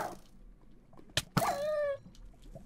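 A dog in the Minecraft video game whimpers once in a high, drawn-out whine lasting about half a second. Two sharp clicks come just before it, over faint background game noise.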